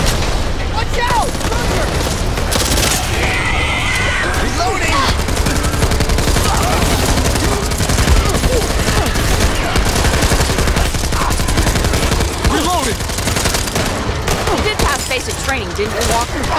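Rapid automatic machine gun fire in the zombie shooter Back 4 Blood, a continuous loud fusillade with booms and chaotic combat noise running the whole time under several players' voices.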